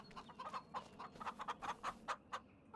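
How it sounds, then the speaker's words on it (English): A flock of thirty chickens in Farming Simulator, on the Scottish Kinlaig map, clucks in a quick uneven run of short, close, fairly loud bursts, with no speech over it. "30 chickens. Bok, bok, bok, guys."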